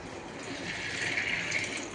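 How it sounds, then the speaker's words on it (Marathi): Water is poured over half a kilo of sprouted moth beans (matki) in a pot before boiling, giving a steady, close rushing splash that swells slightly and lasts about two seconds. "आता हे मटकी आपण पाणी टाकून उकळायचं."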